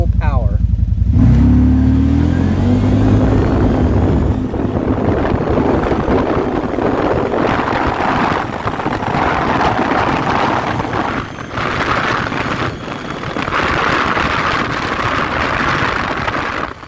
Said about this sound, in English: Get out just so you can hear the exhaust note here.